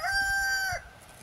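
A single rooster crow rings out close by, a drawn-out call ending abruptly, followed by quiet background.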